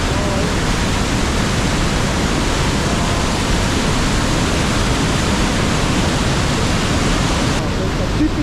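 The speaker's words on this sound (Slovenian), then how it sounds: "To je pa tipičen, močan kraški izvir." The strong karst spring at the source of the Krušnica river in Bosnia and Herzegovina roars as rushing water, a loud, dense and unbroken wash of sound heard close up from start to finish.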